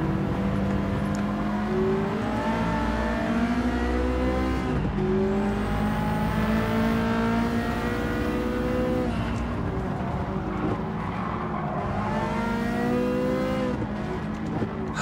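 Ferrari F40 engine in a racing game, repeatedly revving up and dropping through gear changes, loud and close with tire noise; no talking.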